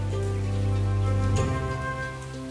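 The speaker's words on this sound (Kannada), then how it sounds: "ಮಳೆ ಬೇರೆ ಬರ್ತಿದೆ" Steady rain falls in an animated children's story, a continuous soft patter that runs the whole stretch over a sustained tonal background, with no voices.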